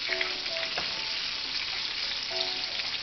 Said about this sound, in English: you can kind of hear it because the sizzling kind of quiets down